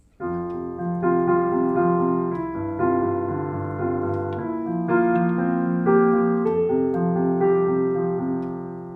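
Piano left-hand accompaniment pattern played at a quicker tempo, sustained harmonic notes shifting through chord changes every second or so, steady and clear with no talking.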